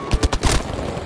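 Gunfire in the video game Battlefield 5: a few loud, close shots in quick succession, followed by a booming echo that decays.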